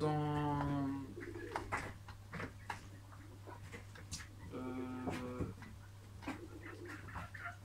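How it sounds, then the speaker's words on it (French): Low pigeon coos repeat twice, close by, with scattered clicks and faint background noise between them. "je pensais que c'était un pigeon"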